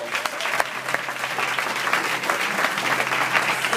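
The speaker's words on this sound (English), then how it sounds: "Come on, give yourselves a great round of applause." Wedding reception guests applaud steadily and loudly throughout, a dense, continuous round of clapping from a sizable indoor crowd with no pauses.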